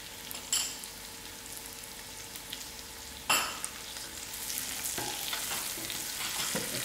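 Masala spices frying in a pan on a home stove, a soft steady sizzle with a few sharp scraping clicks of a spoon stirring, one louder knock midway, fairly quiet and close with no talking.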